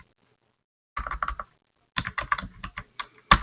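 Two quick bursts of typing on a computer keyboard while editing a Linux config file: rapid close key clicks separated by a short pause, ending with one loud keystroke, no voice.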